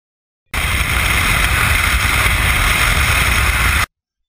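Steady, loud roar of rushing wind buffets the cockpit of a glider under aerotow just after takeoff, its canopy flung fully open, a continuous broadband blast lasting a few seconds with no voices.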